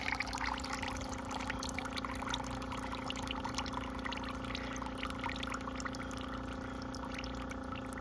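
Water drains out of kilns into a container, pouring and trickling steadily with a constant low mechanical hum beneath it and no speech.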